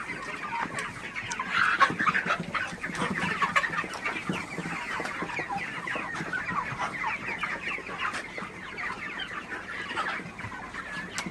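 Broiler chickens at a feeder cluck steadily as a dense flock while eating feed, a continuous busy chatter of overlapping calls at moderate loudness throughout.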